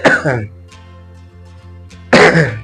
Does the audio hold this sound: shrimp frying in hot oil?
no